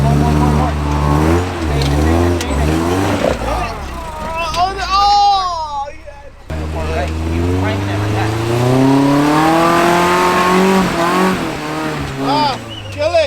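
Off-road truck engine revving hard on a hill climb at Pilot Rock Truck Trail, loud rising and falling roars close by, cutting out briefly before surging again, with people talking over it.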